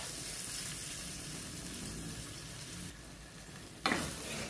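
Pork ribs frying in a pan as tomato sauce is mixed in, giving a steady close sizzle with stirring scrapes throughout and a brief louder clatter near the end.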